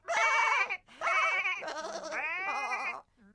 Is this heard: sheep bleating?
yes